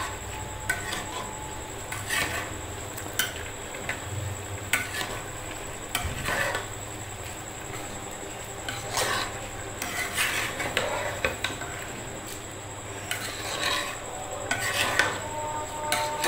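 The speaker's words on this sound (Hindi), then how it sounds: "अब हम हल्के हल्के हाथों से इसको मिक्स कर देंगे" Gently stirring fried kofta into moti pulao in a cooking pot, a soft repeated scraping and clinking of a spoon against metal over a faint sizzle, with no one talking.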